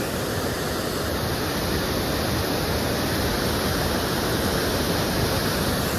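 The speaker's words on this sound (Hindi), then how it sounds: "आप लोगों को मैं सुनाता हूँ भाई झरने की वाइस" Falling water roars as a continuous, dense rushing wash, steady and close, with nothing else audible.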